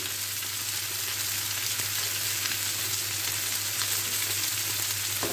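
Anchovy rice fries in an oil-edged pan, a constant soft hiss of sizzling oil that runs steadily throughout, faint and close with no voices.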